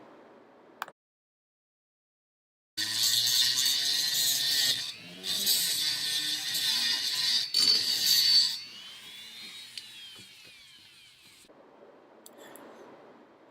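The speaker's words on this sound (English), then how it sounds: "get a Dremel tool in there" A Dremel rotary tool grinding down a weld on a metal crucible holder, a high whining buzz in several bursts of a few seconds each, with quiet gaps between them.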